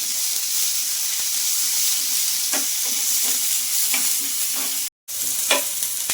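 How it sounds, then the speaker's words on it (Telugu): Sliced onions and green chillies fry in a pan with a steady bright sizzle and occasional scraping stir strokes, close and constant, with a brief silent gap near the end. "ఆనియన్స్ సగం వేగిందండి."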